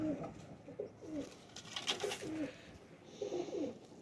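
Several soft, low pigeon coos repeat at close range, with a brief rustle between calls.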